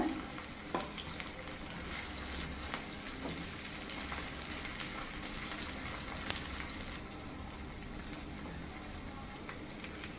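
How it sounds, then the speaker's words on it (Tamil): Sliced okra (lady's finger) fries in hot oil, giving a steady close sizzle and bubbling hiss with faint stirring or scraping now and then, continuous for the whole stretch. "கொஞ்சம் கொஞ்சமாக போட்டு ஃப்ரை பண்ணி எடுத்துக்கோங்க"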